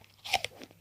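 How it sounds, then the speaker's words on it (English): A single crisp crunch of biting into a fresh, sweet apple from an allotment, short and close, followed by softer chewing crackles. "Crunchy, mostly sweet, very slightly acidic. It's a pleasant apple"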